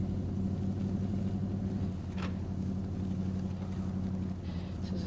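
A heavy truck engine in the snow-and-ice off-road game SnowRunner rumbles steadily with strong low-frequency drone throughout, idling close and loud, with a brief higher hiss near the middle.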